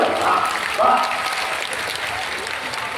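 Crowd at a Hindu religious discourse clapping together, a dense continuous patter of hands, with a speaker's voice briefly heard over it near the start.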